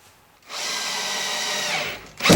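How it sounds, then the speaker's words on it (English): A power drill drives a screw into a wooden table leveler on a workbench, a single steady whine lasting under two seconds, close and loud, followed by a brief clatter as it stops. "now I've got the glue applied and I will screw these on."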